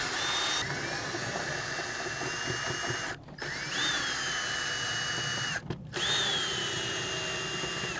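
A power drill backs out the four screws of the air box on a Honda Civic Si, running in steady whirring bursts with two brief pauses between them, loud and close with no talking.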